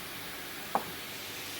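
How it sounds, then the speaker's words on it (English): Beef sears in a pan for a Thai massaman curry, giving a steady, even sizzling hiss with a single faint tick partway through. "we've got our beef sealing away there"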